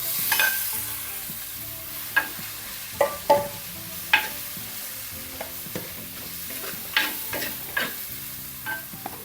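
Curry leaves, a split green chili and tomatoes drop into a hot pan, giving a steady quiet sizzle with several sharp clattering stirs and scrapes spaced through it.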